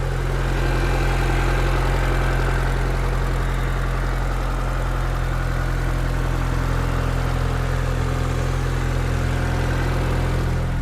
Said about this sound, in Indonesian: Kita dengerin sekarang suara mesinnya ya.